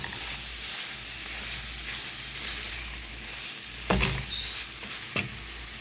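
Ridge gourd fries with salt, turmeric and Kashmiri red chili powder in mustard oil, a steady close sizzle broken by two sharper scraping stirs near the end.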